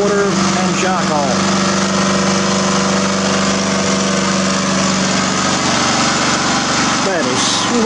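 A small engine running on a homemade fuel of exhaust fumes, water and charcoal runs steadily and loudly throughout, with a constant buzzing drone and faint voices beneath it.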